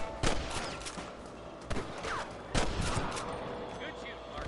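Gunfire in Red Dead Redemption: several sharp rifle and pistol shots ring out at irregular intervals against a noisy battle backdrop, some close and loud, with voices talking during the firefight.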